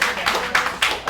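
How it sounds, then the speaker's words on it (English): A few people clapping at a judiciary workshop, sparse separate claps in an uneven rhythm across about a second, fairly close. "Let's give a round of applause to all of them."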